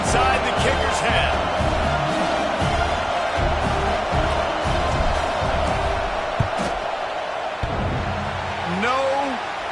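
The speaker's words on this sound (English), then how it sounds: "This crowd trying to do its part to get inside the kicker's head." Stadium crowd at a football game roaring through a field goal attempt, a sustained loud wash of noise with a sportscaster talking over it.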